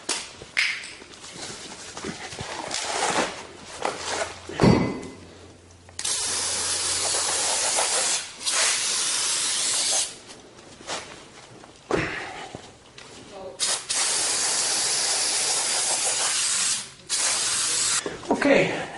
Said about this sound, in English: So for this, we spray it with brake cleaner